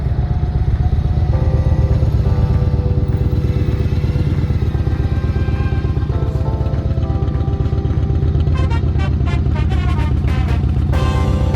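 A Yamaha Raider motorcycle idles and rumbles close by as it arrives for a lake ride, a loud, steady low engine throb with a rapid pulsing beat and faint rattling toward the end.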